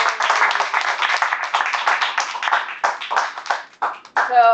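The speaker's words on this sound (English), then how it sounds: "let's give Nirja a big round of applause for her icebreaker" Audience applause for a Toastmasters icebreaker speech: a dense patter of handclaps from a small room of members and guests, steady and fairly close, then thinning out and breaking into scattered final claps toward the end.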